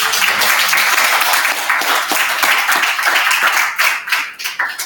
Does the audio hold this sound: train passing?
no